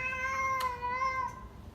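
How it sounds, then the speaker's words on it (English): A house cat gives one drawn-out, tonal meow, close and clear, with no talking over it. "Come say hi! This is my cat, Bill."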